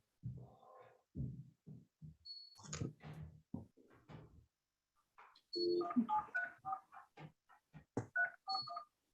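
Telephone keypad tones from a number being dialed during an online court meeting: a quick series of short, clear beeps in the second half, with muffled talk and sounds earlier.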